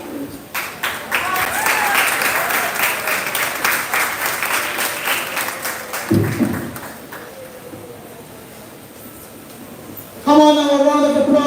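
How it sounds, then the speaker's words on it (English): Audience applause at a high school graduation ceremony, a sustained wash of crowd clapping that fades out midway, followed by a speaker's amplified voice over the hall. "a round of applause for our acting principal, Ms. Kennedy A.K."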